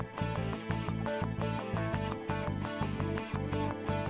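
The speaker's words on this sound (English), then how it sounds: "the keyboard and the rhythm guitar, which play a very repetitive 7-note phrase" A short repeating seven-note riff from keyboard and rhythm guitar, steady and fairly quiet, looping a choppy phrase over and over.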